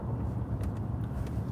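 Low steady road rumble of traffic heard from inside a car, a continuous muffled drone with faint passing hiss, no talk.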